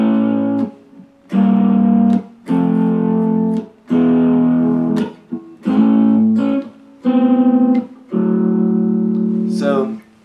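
An electric guitar on its middle pickup, volume around 7, with light crunchy distortion. It plays a series of strummed chords in separate bursts with short pauses between them, and the individual notes stay distinct. The tone is gritty but clear, loud and close.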